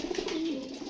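Pigeon cooing nearby, a short soft throaty coo rolling into a low drawn-out note, heard alone and close.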